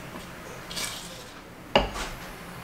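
A spoon or spatula scrapes and stirs batter in a mixing bowl, with a soft swish and then one sharp clank against the bowl, close by and with no talk.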